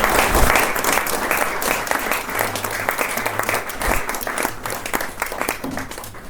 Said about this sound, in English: that deserves a roaring round of applause